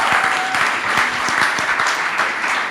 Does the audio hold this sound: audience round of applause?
yes